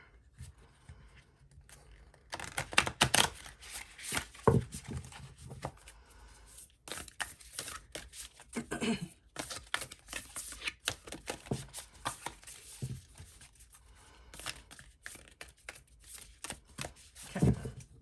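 Playing cards riffled and shuffled by hand in several bursts of crisp fluttering clicks, fairly close and moderately loud, with pauses between shuffles and no voices.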